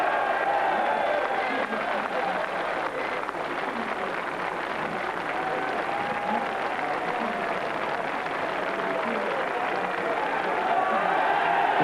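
A racecourse crowd at a race meeting applauds in a broad, distant wash of clapping and crowd murmur that holds steadily throughout, with talk faintly audible within it.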